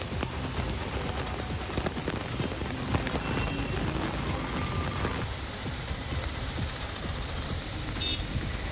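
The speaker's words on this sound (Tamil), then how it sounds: "திருவண்ணாமலை மற்றும் அதன் சுற்றுவட்டார பகுதிகளில் 1 மணி நேரத்திற்கு மேலாக கனமழை வெளுத்து வாங்கியது" Heavy rain pours over Tiruvannamalai and its surrounding areas, a dense, steady hiss of drops pattering on surfaces that holds throughout without any talk.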